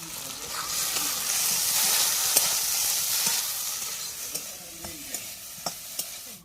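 Small fish stirred into a pan of frying ginger, cumin, garlic and chili paste in village cooking, a dense loud sizzle swelling then easing, with sharp spoon taps and scrapes toward the end.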